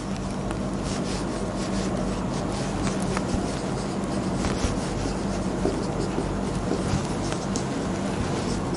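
Steady scratchy rubbing of a pen or marker writing out a logarithm problem, continuous close scraping strokes running throughout with no talk.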